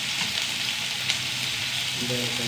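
Onion sautés in a pan with mustard seeds, a small piece of cinnamon and two cardamom pods, giving a brief, close, steady crackling sizzle with no one speaking.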